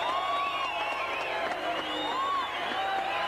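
A large motor-racing crowd at the 1987 Bathurst 1000 cheers and whoops steadily in the open air, a continuous roar of many voices with scattered shouts, alongside amplified announcing.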